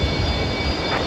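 Loud, continuous roar of a Jetstar airliner's jet engines as it departs at Brisbane Airport, a steady broadband rumble close by with no voices.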